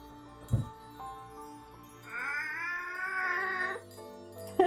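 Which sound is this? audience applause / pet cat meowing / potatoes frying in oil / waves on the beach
pet cat meowing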